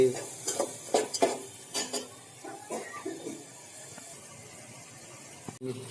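Green and dry garlic sizzle in a hot tempering for dal, with a spoon stirring and scraping the pan in irregular knocks as the hiss fades toward the end.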